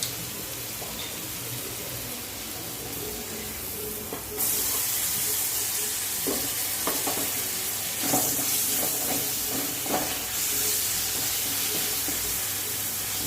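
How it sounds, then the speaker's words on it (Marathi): Spice masala fries in a pan, a close, steady sizzle that jumps louder partway through as more goes in, followed by intermittent scraping and stirring knocks from a spoon against the pan over the hiss. "तर बघा छान असा मसाला फ्राय झाला आहे"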